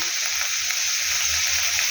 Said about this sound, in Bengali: এটাকে আমি হালকা করে ভেজে নেব